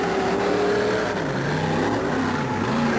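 Monster trucks at a USHRA event in Pittsburgh launching at the green flag, engines revving hard and climbing in pitch as they accelerate, loud and continuous with wavering tones from more than one motor.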